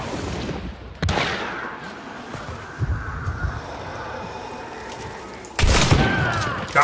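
Gunfire in the video game Hunt: Showdown: several sharp, booming shots ring out at intervals, some distant and rumbling, with a loud blast near the end over a windy, hissing background.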